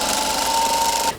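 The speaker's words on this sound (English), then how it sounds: "I can send them through that sewing machine" A sewing machine runs continuously, stitching quilt block pieces together in a steady, fast, close-up whir with a high mechanical whine, cutting off abruptly at the end.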